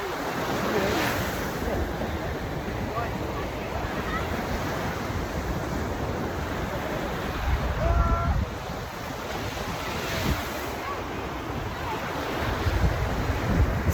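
Surf breaks steadily along a beach shore, a broad continuous wash with swells rising near the start and middle, mixed with wind buffeting the microphone during a walk; a faint voice surfaces briefly.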